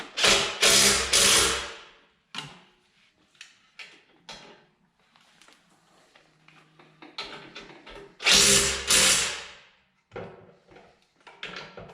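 A power tool drives winch mounting bolts on a Jeep in two loud whirring bursts, with quieter ratcheting clicks and handling noises in the gaps between them.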